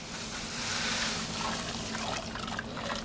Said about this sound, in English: So continue adding your grains and stirring.